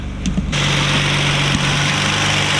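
A Nissan Altima engine idles steadily at a smooth, even rumble after a brief uneven moment at the start, loud and close with no talking.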